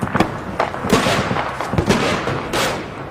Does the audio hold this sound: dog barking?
no